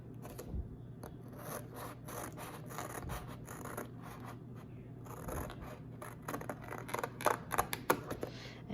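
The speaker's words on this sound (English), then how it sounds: "Using the scissors, I will first cut out each of these halves of the globe." Small scissors snip and rasp through paper while cutting out paper globe halves for a planisphere map collage, close and quiet with irregular cuts and rustling, no talking.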